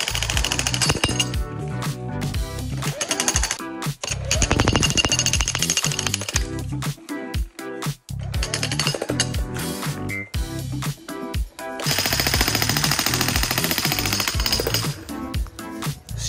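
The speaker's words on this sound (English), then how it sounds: "I'm gonna jackhammer this thing up." A 100-pound jackhammer chips apart an old concrete fountain in loud, rapid hammering bursts, with brief pauses and clinks of breaking material between the runs.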